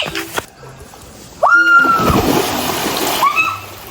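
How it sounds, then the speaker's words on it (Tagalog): Someone jumps into a swimming pool, a sudden loud splash followed by sloshing, churning water that gradually settles, with faint voices nearby before the plunge. "Mag-ambak-ambak na ta sa swimming pool."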